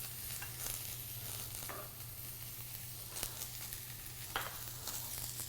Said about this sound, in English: gonna stir my mushrooms up